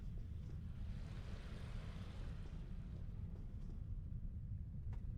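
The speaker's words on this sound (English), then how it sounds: "Another view of the waterfall." Waterfall at Earth Spacedock in Star Trek Online producing a steady low rushing roar, constant and enveloping with no breaks.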